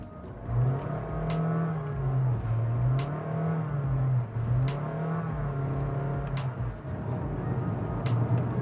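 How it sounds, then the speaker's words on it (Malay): A Honda City Hatchback RS hybrid's petrol engine runs at a low, steady hum with gentle wavering rises in pitch, heard quietly and alone. "once dia switch to the engine, kita dapat dengar lah dia punya bunyi dia tu"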